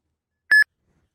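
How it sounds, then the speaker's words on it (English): A single short electronic beep from an Uber driver app on a phone signalling a trip request, clear and close, alone in silence. "Your phone will start beeping, and the screen will flash."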